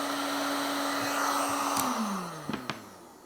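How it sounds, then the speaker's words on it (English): A hair dryer runs steadily off a Bluetti Elite 200 v2 portable power station, a constant whooshing hum that shifts down in pitch near the end, followed by a couple of sharp clicks as it winds down. "I could go get a hair dryer or 2 heat guns, and it'll be running this no problem."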